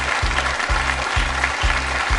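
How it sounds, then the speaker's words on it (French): Studio audience applause for a contestant on a French quiz show, a dense wash of clapping over a pulsing low musical beat, with no talking. "Gaël, un petit point qu'on applaudit quand même Gaël"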